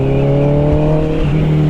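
Honda CBR650R motorcycle fitted with an Austin Racing GP1R exhaust, idling and blipping close by at night, a steady deep drone with a slight dip and recovery near the end, no talk.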